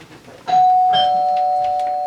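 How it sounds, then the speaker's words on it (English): A doorbell gives one clear, loud chime that rings on steadily and slowly fades, heard alone. "Ah, the door is chiming"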